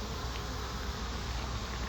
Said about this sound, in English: And I got a bee in my ear.